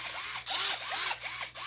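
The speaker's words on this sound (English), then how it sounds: "Feels like it has more power, but it's probably a different drill." Cordless drill spinning in short bursts, each with a whining pitch that sweeps up and down, close by and fairly quiet, with no talking.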